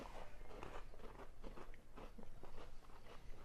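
Crunchy strawberry candy being bitten and chewed close up, a quick run of crisp crunches and grinding chews repeating for a few seconds with no talking.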